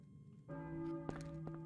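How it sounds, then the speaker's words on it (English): Church bells in the video game Silent Hill ring at moderate distance, a couple of sustained tolls with overlapping hum after each strike. "So you hear church bells ringing right now."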